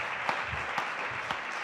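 Steady clapping from an audience at an awards ceremony for a concrete trophy, thanking a presenter, sustained and even with a few sharper claps standing out.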